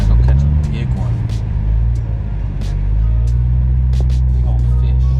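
A 1991 Nissan Skyline GTR cruises along with a loud, steady low engine drone and road rumble that rises slightly as it accelerates, with a voice talking over it.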